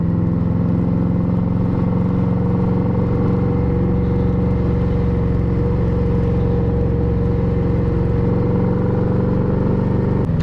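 An Indian Scout cruiser motorcycle idles and runs with a steady, throbbing low engine note, close and continuous with no talk over it.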